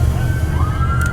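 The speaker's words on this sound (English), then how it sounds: "here come the sirens" Wailing emergency vehicle siren approaching in a Christmas parade, a steady rising tone held over loud low rumble of engines and crowd noise, fairly distant.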